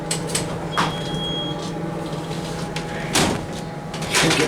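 An Otis Series 1 hydraulic elevator door at a Quality Inn in Lake City, Florida scrapes and clunks while failing to close, with several sliding bumps and thuds over a steady machine hum and a brief whine.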